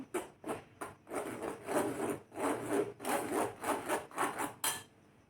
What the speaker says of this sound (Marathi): छान एक चमचने असं गाळून घेत आहे मी पूर्ण